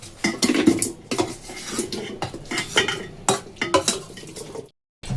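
A cooking pot is handled while making chana paneer handi malai curry at home, with repeated clattering metal knocks and scrapes of utensils against the pot, fairly close, ending in a brief silence.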